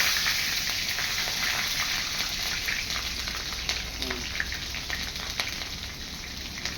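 Chillies frying in hot oil for a Bengali home-style goat meat curry give a steady, dense crackling sizzle that holds evenly throughout, close and fairly loud.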